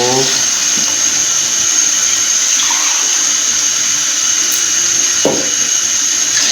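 Water is poured from glasses into a cooking pot while making chicken yakhni pulao, producing a continuous, close splashing rush that runs steadily throughout, with a faint clink near the end.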